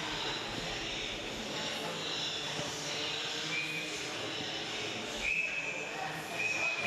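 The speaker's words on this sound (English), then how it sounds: "And another whistle here." A referee's whistle sounds at a high school ice hockey game, shrill and fairly brief against steady rink noise, a few seconds in, with fainter whistle tones following.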